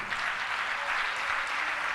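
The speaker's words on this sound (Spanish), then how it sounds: "Aplauda al Señor por siempre." A church congregation claps steadily and densely throughout, a loud, even wash of applause with no break and no voices standing out.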